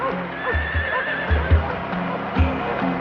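Pack horses carrying survey instruments on an expedition across Australia neigh with drawn-out whinnies while their hooves clip-clop in uneven, close thuds, heard clearly over a light background.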